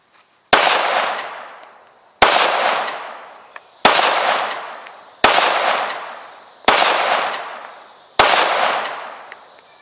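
A .45 and a 9mm gun firing outdoors: six loud, sharp shots spaced about one and a half seconds apart, each with a decaying echo tail, no talk.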